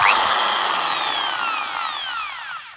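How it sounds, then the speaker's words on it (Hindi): A Hyundai electric drill runs alone at high speed, a loud steady whine whose pitch slowly falls over a few seconds as it spins down. "तो इस टाइम ये ड्रिल मशीन पावर ऑन है।"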